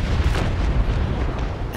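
Cannon fire during a large fleet battle between sailing warships in the naval combat game Naval Action, a deep rumbling boom that sustains low and heavy through the short moment, with no talk.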